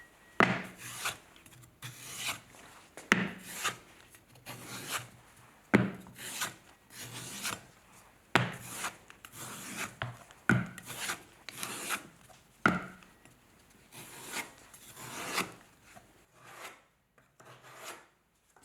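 Porcelain clay is scraped off throwing bats in a pottery studio in repeated rhythmic rasping strokes, close and steady, with no talking.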